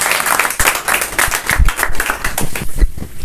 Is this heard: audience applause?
yes